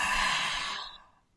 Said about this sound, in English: we're just going to take 5 deep breaths